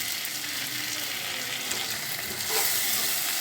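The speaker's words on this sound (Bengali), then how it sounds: "তার মধ্যে এবার পেঁয়াজ আলুটা দিয়ে এই নাড়াচাড়া করছি" Onion and potato sizzle steadily in hot oil with spices in a pan for rajma, with a continuous broadband fry and a slight surge near the end as stirring continues; no voices.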